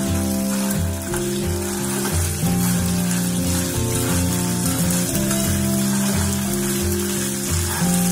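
Chana dal and urad dal crackle and sizzle as they roast in a pan for a pumpkin-skin chutney, a dense close frying patter under a steady low hum, with no talking.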